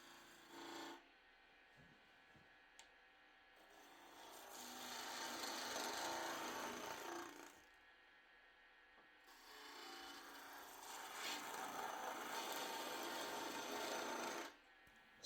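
Skew chisel cutting a large dry wood vase spinning on a lathe: two long rasping, scraping passes of several seconds each, loud and broadband, separated by the quieter whir of the turning piece, with no talk.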